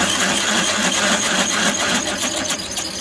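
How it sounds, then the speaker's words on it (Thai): A steady high-pitched whirring drill grinds continuously into a metal leaf spring, close and loud, without any talking. "เจาะแหนบใหม่"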